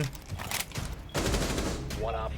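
Rapid automatic gunfire in Rainbow Six Siege, loud bursts of shots crackling over game ambience with a player's voice talking over the action.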